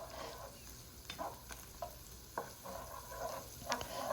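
Coriander powder, turmeric, red pepper, tomatoes and onions sear in a pan for butter chicken, a quiet steady sizzle broken by occasional scraping stirs and light taps, close by.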